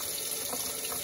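Hot water gushes steadily from a tap, a continuous close splashing rush with no pauses.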